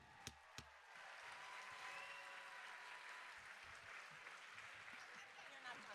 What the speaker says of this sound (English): Wild applause like crazy.